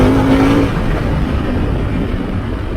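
A 2021 Harley-Davidson Pan America motorcycle rolls on the throttle in second gear, heard as a loud, steady engine drone with heavy wind rush from the rider's position, no talking.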